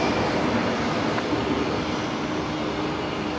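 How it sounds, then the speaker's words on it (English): Airliner arriving from Melbourne and landing on runway 01 left at Brisbane airport, a steady broad engine roar at moderate distance that holds even and unbroken, with no talk. "Connor 622, just about to touch down here, coming in from Melbourne."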